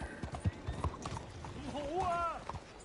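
Horse hooves clip-clop in the video game Red Dead Redemption 2 as the horse is urged on, rhythmic hoofbeats mixed with a brief whinny while someone talks over them.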